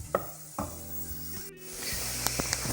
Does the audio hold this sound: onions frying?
yes